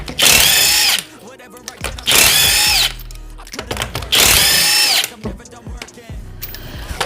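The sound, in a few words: Milwaukee 1/2 inch power tool loosening lug nuts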